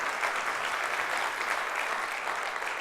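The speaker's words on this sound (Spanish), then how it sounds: "Como que merece un aplauso, ¿verdad, hermano?" A church congregation applauds together, a dense, even wash of many hands clapping steadily for a few seconds with no voices over it.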